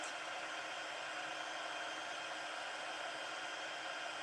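A heat embossing tool blows hot air over copper embossing powder on a stamped autumn-leaf card, giving a steady, loud, even whoosh that holds without a break from start to end, with no talking.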